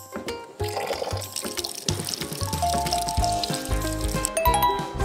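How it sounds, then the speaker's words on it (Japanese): Tap water runs steadily onto hands being washed at a sink, a close, continuous splashing and trickling with shifting pitch as the flow is interrupted, heard alone without voices. "まずはしっかり手を洗います。"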